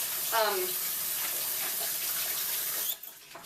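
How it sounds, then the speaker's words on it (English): Tap water runs steadily over a small salt seasoning packet from a corned beef pack, a continuous splashing rush under a brief voice that cuts off near the end. "Let me wash this off so I can open it."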